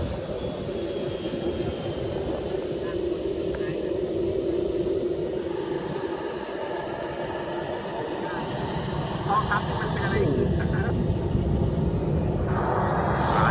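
A jet airplane at a small airfield in Ayutthaya gives a steady, loud engine roar with a whining tone that builds toward the end, while people talk over it.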